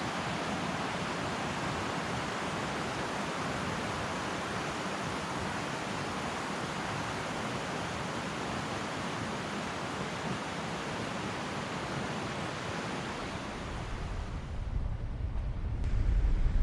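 The Fryingpan River rushes past a campsite at Chapman South Campground in White River National Forest, a dense continuous roar of flowing water that holds steady throughout and swells slightly near the end.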